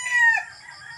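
A rooster crows once, loud and close, its call rising then trailing off, with faint clucking underneath.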